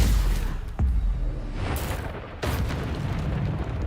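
Spell explosions from the Bombarda charm in the Hogwarts Legacy video game, with a heavy low boom near the start and sharp bursts around the midpoint and later, over a dense, continuous layer of rumbling combat sound.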